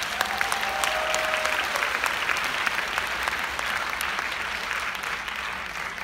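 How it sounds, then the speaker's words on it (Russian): Large congress audience at an Oriflame company event breaks into steady, full applause that stays loud and even, with a brief whistle-like tone early on. "Давай дай себе аплодисменты."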